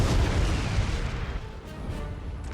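Artillery cannon fire booms in a Napoleonic battle in Total War: Napoleon, a dense, heavy rumble of low blasts running continuously from start to finish, with no talking.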